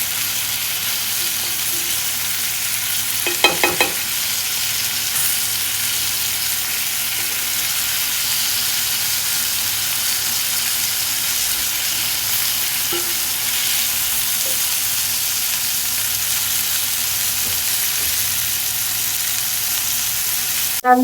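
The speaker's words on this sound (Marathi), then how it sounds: "थोडंसं खरपूस होईपर्यंत आपण फ्राय करायचं आहे मच्छीला" Fish frying in a pan until crisp, a loud continuous hiss of hot oil with a brief clatter of turning early on, steady and close throughout, no voices.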